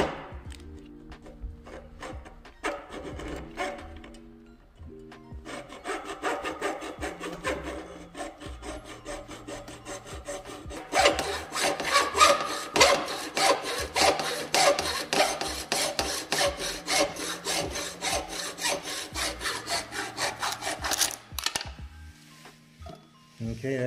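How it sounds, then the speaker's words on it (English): A hacksaw cuts a groove into a part clamped in a vise, first in short tentative pulls, then in fast steady back-and-forth rasping strokes that grow louder before stopping. "You can pull back on the hacksaw and it'll make a groove so you can get started."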